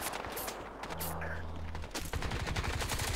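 Rapid, overlapping bursts of automatic gunfire in the Crysis 2 video game, fought around City Hall, crackle steadily throughout at moderate loudness with no talking.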